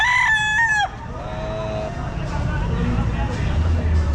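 A rooster crows loudly and close by at a pet market in Baliwag, one rising and falling call, followed by market bustle and people talking.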